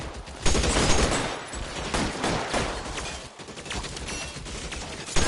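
A heavy exchange of gunfire in L.A. Noire during a cover shootout, dense overlapping bursts of shots and rattling volleys with a few sharper cracks, loud and continuous throughout.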